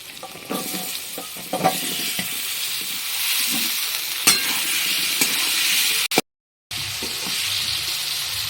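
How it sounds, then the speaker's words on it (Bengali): Papaya pieces tossed into a hot pan set off a loud, steady sizzle of frying, with stirring scrapes on top, close by and continuous apart from a brief cut-out near the end. "এবার দেবো আমি একসঙ্গে পেঁপেগুলো ছেড়ে দেবো"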